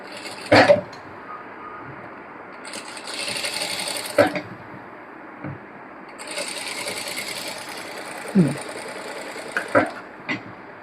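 A sewing machine stitches the neckline of an anarkali dress slowly, in short bursts of mechanical whirring separated by pauses, with soft clicks and handling noises between the runs.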